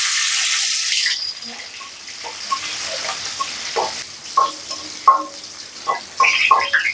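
Garlic cloves and dried chillies frying in oil for a lentil and drumstick curry, a soft hiss with brief gushing at the start, then scattered spoon scrapes and light crackles against the pan.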